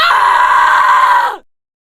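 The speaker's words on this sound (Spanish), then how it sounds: "Un sonoro grito fue lo primero que recibí de ella." A woman lets out one loud, sustained scream lasting over a second at full intensity, then it cuts off abruptly into silence.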